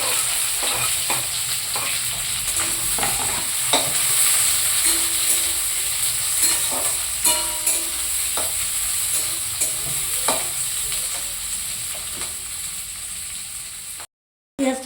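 Green chilies frying in hot oil, a continuous loud sizzle with scattered sharp spluttering pops and stirring sounds, close up, cutting off briefly near the end.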